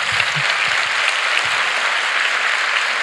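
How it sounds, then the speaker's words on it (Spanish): Audience applause fills a Catholic evangelization festival in Puebla, 2019, a dense, steady wash of many hands clapping at full strength throughout, loud and close with no talking over it. "Sí, un aplauso para ella."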